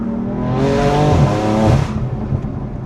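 A BMW F82 M4 accelerates hard, its engine note climbing steadily in pitch through a loud, sustained rev, then dropping off as the car backs off near the end.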